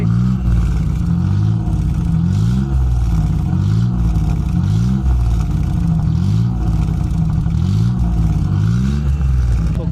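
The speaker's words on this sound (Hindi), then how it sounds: "गाड़ी का साउंड काफ़ी अच्छा है, स्पोर्ट्स वाला बड़े आवाज़ वाला सिलांसर लगा है गाड़ी में।" A 1988 Daihatsu Charade with a 1000cc engine and a loud sports silencer revs in repeated swells, with a deep, throaty exhaust drone rising and falling about every second, close and loud.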